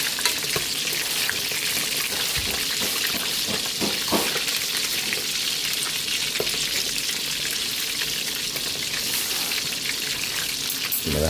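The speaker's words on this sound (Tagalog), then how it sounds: "Baliktarin natin yung ating pritong manok." Steady, close sizzling and crackling of chicken frying in hot oil, with occasional clinks and stirring noises and no talking.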